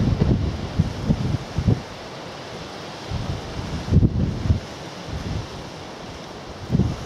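Coastal wind at Snettisham buffets an outdoor microphone in low, rumbling gusts that come in bursts several times, rising and dropping over a faint steady hiss, with no talking.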